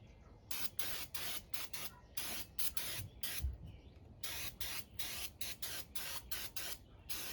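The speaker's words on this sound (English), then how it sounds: "take our brake parts cleaner, kind of spray down the rifle" Short bursts of brake parts cleaner aerosol spray hiss onto a rifle in an irregular series, some quick and clipped, others longer, with brief pauses between.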